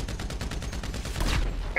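Rapid bursts of gunfire from an online GTA V match crackle continuously, dense overlapping shots that swell louder near the end, with no voices over them.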